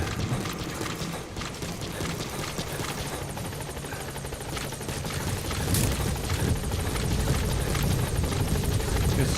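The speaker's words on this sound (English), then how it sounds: "Support helicopter has arrived." A support helicopter in Metal Gear Solid V, its rotor thumping in a rapid, even chop with a mechanical whine, slowly growing louder as it closes in.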